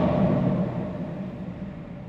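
A 2015 Ford Mustang 5.0 50th Anniversary V8 gives a short rev, a loud low rumble that swells at the start and then settles back toward idle.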